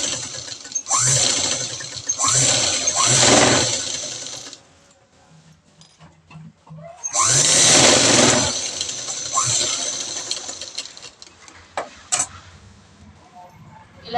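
A sewing machine stitching the neckline of a cut work blouse, running in two long bursts of rapid whirring with a short pause between them and faint handling clicks after, close and loud.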